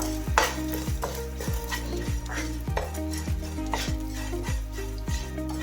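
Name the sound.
edible gum (gond) roasting in ghee in pan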